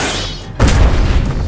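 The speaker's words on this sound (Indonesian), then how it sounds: "Ledakan besar terjadi." A big animated explosion in a Naruto fan animation erupts suddenly after a brief rushing build-up, a loud, deep boom with rumbling that fills the rest of the short moment.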